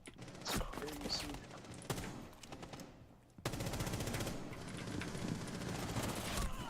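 Gunfire in Rainbow Six Siege as a gun shoots through a wall, dense repeated bursts of shots with a brief lull before a louder sustained stretch of fire near the end.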